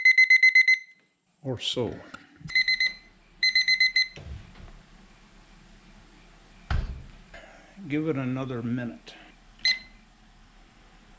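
Kitchen timers beep in sharp repeated electronic bursts, several short clusters with gaps between, close and loud, while a person talks and other kitchen noises clatter in between.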